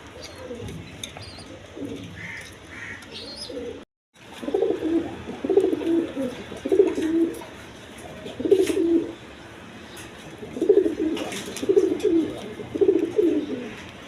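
Pigeons at a sale, including an orange pair, give a series of rhythmic low coos in repeated bursts, fairly close and clear, after a brief silent gap.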